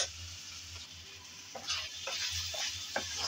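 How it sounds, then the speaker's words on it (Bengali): Ridge gourd curry with chili, cumin-coriander powder and salt is stirred in a pan: repeated close scraping strokes of a spatula over a soft continuous sizzle, with no talking. "সব একসাথে ভালোভাবে নেড়ে চেড়ে কষিয়ে নিতে হবে।"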